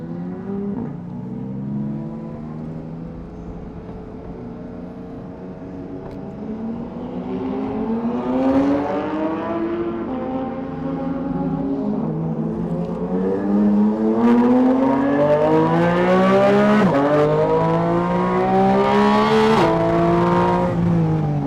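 A Porsche GT4 RS on a race track accelerates hard through repeated rising engine pitch sweeps, each cut short by upshifts and braking, with the loud engine and tire noise building steadily over time.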